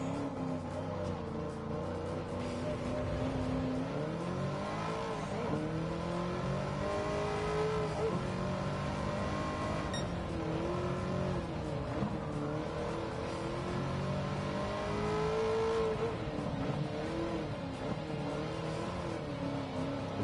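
Corvette ZR1 (C6) racing in Gran Turismo 7, a continuous loud engine drone rising and falling as it revs up and shifts through gears, steady and close throughout.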